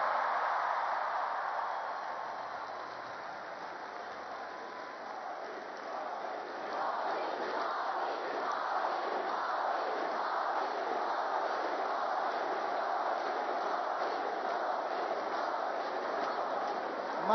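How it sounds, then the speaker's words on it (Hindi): A large crowd at a national youth festival in Nashik rises in a standing ovation for the Prime Minister, with a steady, dense wash of clapping and cheering that swells slightly partway through and holds at a loud level. "अपने स्थान पर खड़े होकर जोरदार तालियों के साथ"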